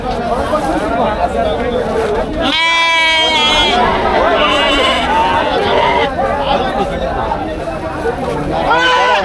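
Goats and sheep bleat loudly at a busy livestock market in Ranipet, one long harmonic bleat standing out near the middle over a steady crowd hubbub, with people talking throughout.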